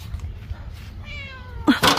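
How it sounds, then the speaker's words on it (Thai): A house cat meows twice: a drawn-out, wavering call, then a louder, sharper meow right after, over faint background noise. "ตอนขึ้นได้นะแต่ตอนลงเมี้ยวเมี้ยวเลย"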